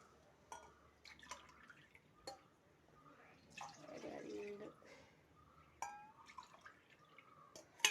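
Water is poured into a glass while measuring for a rice-flour kireekk snack, a soft splashing run in the middle of scattered kitchen clatter and knocks, fairly faint and close.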